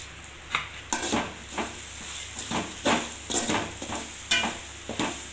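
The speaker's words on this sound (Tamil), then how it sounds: "இப்போ இந்த தேங்காயும் போட்டு நல்லா வறுத்துக்கலாம்" Grated coconut roasts with sautéed onions in a pan, a soft sizzle broken by rhythmic spatula strokes roughly every half second, each a brief scraping swish, close and moderate in level with no speech.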